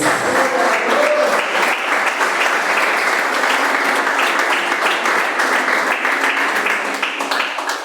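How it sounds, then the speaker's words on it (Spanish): Congregation applauding during a church sermon, a dense, loud, sustained wash of clapping that fills the whole stretch without speech on top. "Denle el aplauso a nuestro Dios"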